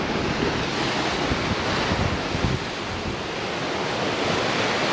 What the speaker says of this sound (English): this one's called Cala Escondida, or Escondido, which means hidden beach or hidden bay